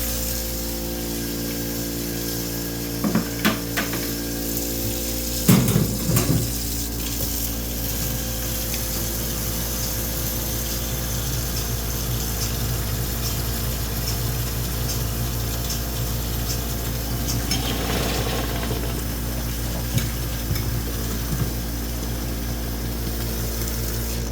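Milking equipment being rinsed in a bucket of water, a steady splashing and running-water wash over a constant machine hum, with a few louder clanks of metal parts.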